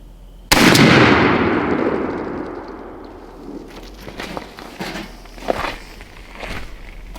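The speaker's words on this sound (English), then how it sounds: "Second shot with the Remington" A Remington 20 gauge shotgun fires a single TSS load outdoors: one loud, sharp blast near the start, followed by a long decaying echo and faint rustling.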